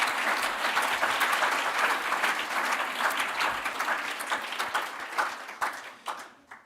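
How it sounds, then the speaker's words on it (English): Audience applause at the Business Book of the Year Award 2025 ceremony, a dense burst of crowd clapping that holds steady and then tapers off over the last second. "Give them all a round of applause."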